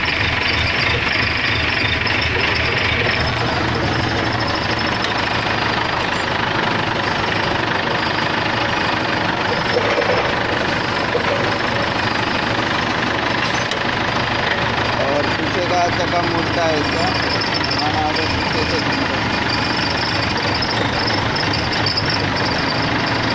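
A forklift engine runs steadily while the lift is raised, a loud, continuous low rumble with mechanical knocking throughout, close by, with someone talking over it.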